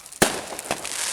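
A single sharp firework bang on bonfire night at Whiting Bay, Isle of Arran, then a softer pop and a lingering crackle and hiss outdoors.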